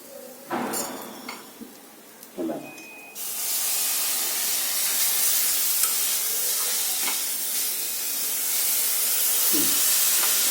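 Milk being added to a pan of roasted carrot and beetroot halwa: a few brief knocks and stirs give way to a loud, steady hissing sizzle that carries on evenly to the end, with no voices.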